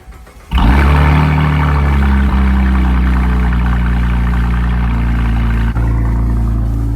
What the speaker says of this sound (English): Cold start sounding pretty good